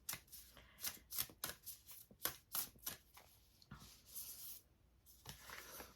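An oracle card deck is handled and shuffled close up, giving soft, rapid papery riffles and flicks in an uneven rhythm, with a card slid out near the end; no talking.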